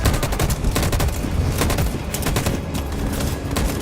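Dense, loud volley of gunfire in the video game Detroit Become Human, with many overlapping shots crackling continuously as a single sustained barrage and no pauses.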